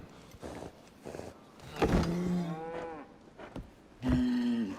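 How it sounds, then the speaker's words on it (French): A cow lows twice, a long drawn-out moo near the middle and a shorter, steadier one at the end, both loud and close, with a quieter background between them and no talking. "Vache."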